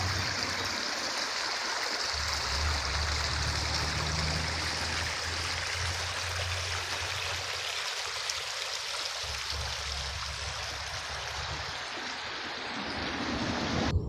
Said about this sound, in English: They actually have a creek that flows through the side of the cemetery